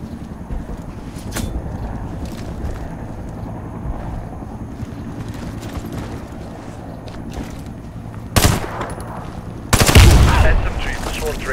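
Gunfire in the online shooter Warface: low rumbling background noise with scattered shots, then two louder bursts of rapid fire near the end.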